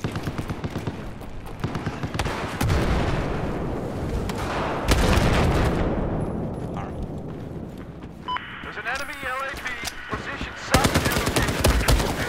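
Gunfire rattles in the video game Battlefield 4 as machine guns and single shots crack repeatedly between louder bursts, with distant battle noise filling the pauses and a player's voice talking over the fighting.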